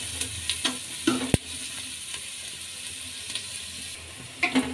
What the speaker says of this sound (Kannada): ಈರುಳ್ಳಿ ಚೆನ್ನಾಗಿ ಫ್ರೈ ಆಗಲಿ.